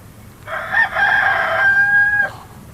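A person's voice imitates a rooster crowing, one long drawn-out cock-a-doodle-doo, loud and close, with a rising start and a sustained ending.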